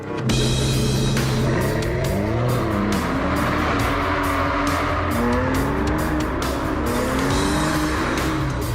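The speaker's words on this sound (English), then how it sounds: "I've also got some little valves that open in my exhaust system to make it sound that little bit better" An Aston Martin Vanquish with a V12 roars loudly through its valved exhaust, rising and falling in pitch as it revs and shifts. Tires squeal and a sharp crackle runs through the sound, with no voices.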